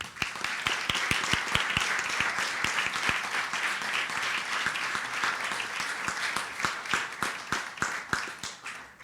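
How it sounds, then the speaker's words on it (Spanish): Sustained audience applause at a Spanish-language book presentation for a collection of short stories, dense overlapping claps from a crowd holding steady and loud throughout, with a few sharper individual claps standing out near the end. "nos gustaría recibirla con un fuertísimo aplauso"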